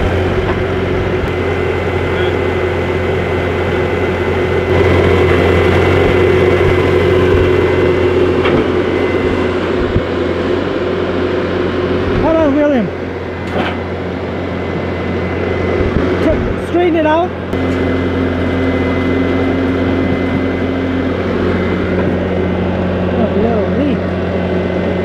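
A Bobcat skid steer fitted with an Ultra Plow idles with a steady, loud engine drone for the whole stretch, low hum constant throughout, with people talking over it.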